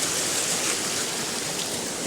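Rain falls steadily near a stream, a continuous close wash of water with no talk over it.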